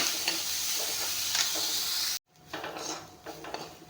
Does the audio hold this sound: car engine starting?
no